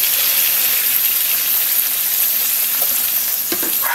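Sapsap fish and string beans stir-fried in a pan give off a loud, steady sizzle with scraping stirs and a few utensil clicks near the end, with no talking.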